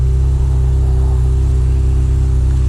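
A Honda CBR600RR motorcycle engine, checked for a speed sensor or wiring problem, idles loud and close with a steady, throbbing low rumble.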